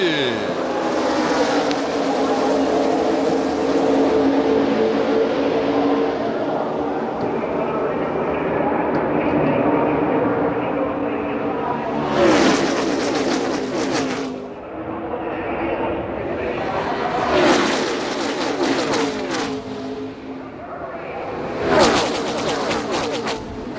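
NASCAR Cup Series stock cars roar past at Daytona after the green flag in the 2013 Budweiser Duels, a loud sustained engine drone with repeated whooshing pass-bys swelling and fading, under continuous race commentary.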